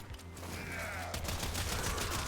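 Sustained automatic gunfire from a weapon in the video game Warframe as a magazine is emptied, a dense, continuous rattle of rapid shots that runs loud and unbroken for the whole stretch, with no talk over it.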